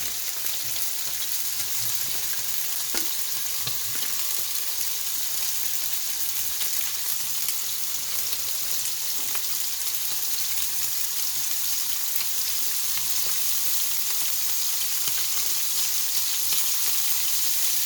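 Pork belly with oil and salt sizzles in a pan, a loud continuous crackling fry with occasional pops and light stirring throughout.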